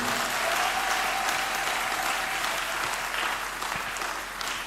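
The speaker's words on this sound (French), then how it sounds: "Applaudis très bien le Seigneur des Seigneurs" A congregation applauding at a deliverance church service, dense continuous clapping with a faint sustained tone at the start, tapering slightly toward the end.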